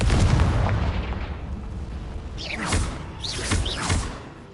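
A Confringo blasting spell in Hogwarts Legacy goes off with a loud boom, then rumbles and crackles, followed by a few sharp whooshing magical bursts and smaller blasts in quick succession.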